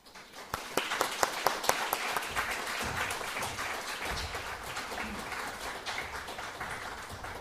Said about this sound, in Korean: 우리 목사님 올라오실 때 우리 박수로 우리 환영해 주셨으면 감사드리겠습니다.